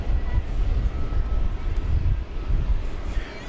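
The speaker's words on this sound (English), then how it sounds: "Flight 1946 American Airlines from San Diego, California, is just about to touch down in Airbus A321neo." An American Airlines Airbus A321neo touches down at DFW, a steady low rumbling roar of engine and rolling noise, moderately loud and heard from some distance.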